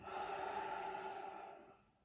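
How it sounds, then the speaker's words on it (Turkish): One slow, audible breath, in and out, during a relaxation exercise, close and soft, fading gradually over about two seconds with no talk. "Nefes alıp veriyorum."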